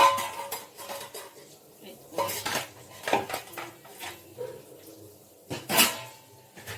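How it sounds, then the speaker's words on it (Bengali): A kadai and spatula are washed in a home kitchen, giving irregular metallic clanks and scrapes in scattered bursts with brief running water between, close and fairly loud. "আর শুধু কড়াইটা ধোয়া বাকি, কড়াই আর খুন্তিটা সব ধোয়া হয়ে গেছে মোটামুটি"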